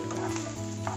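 Onion, green chilli, ginger and garlic sauté in a pan, giving a steady close sizzle with faint stirring scrapes and no talk.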